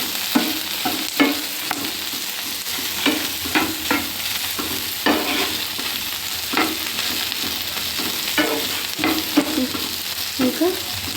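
A spoon stirs lady finger fry with chilli powder in a pan, giving a steady sizzle punctuated by repeated scraping strokes at an uneven rhythm, close and fairly loud with no talking.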